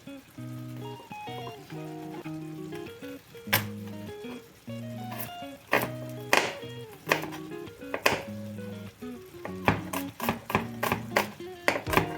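Knife finely chopping garlic cloves on a board for shakshuka: irregular crisp taps and short bursts of quick chops, close and fairly loud, over steady background music.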